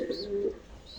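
Pigeons in a loft with newly hatched chicks give a soft, low cooing call, a short murmuring coo close by and fairly faint, with a brief higher chirp at either end.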